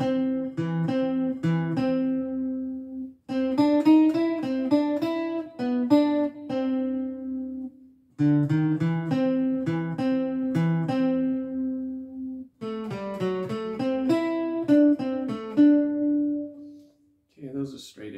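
The Entertainer melody played on a tonal instrument with even, straight eighth notes, in four clear phrases separated by brief pauses, heard alone at moderate loudness.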